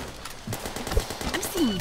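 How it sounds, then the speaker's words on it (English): Rapid gunfire bursts in The Misfits video game, with staccato shots that grow louder toward the end, mixed with in-game effects. "Oh, we just got shot out of the air."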